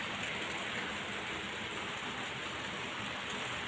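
Rain pours down outside an open doorway, a constant, uniform hiss of falling water, fairly soft and unbroken with no voices over it.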